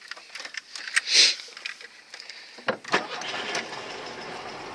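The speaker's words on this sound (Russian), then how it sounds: "Заводится с полтыка, вообще кайфово" An old Volkswagen Beetle engine cranks and catches on the first try, then settles into a rough, low idle after a few clunks and rattles nearby.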